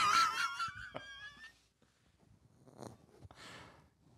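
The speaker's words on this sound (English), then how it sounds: "You know what's funny is your dog snoring." A dog snoring, wheezy nasal rasps rising and falling between quieter pauses, close and fairly soft, with a whistling moan early on.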